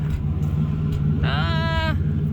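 An idling Chevrolet S10 pickup engine with a slight miss gives a steady low rumble close by, while a voice talks over it.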